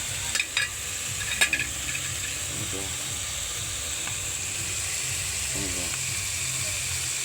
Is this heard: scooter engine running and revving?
no